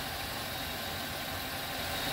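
A GM vehicle engine idles steadily, a low continuous rumble with broadband hiss, heard close and alone without voices.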